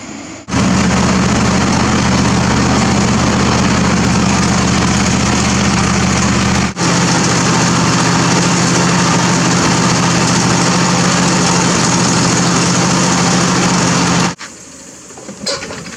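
A green John Deere lawn tractor's engine idles loudly and steadily nearby, a constant low drone that runs unbroken for most of the stretch before cutting off near the end.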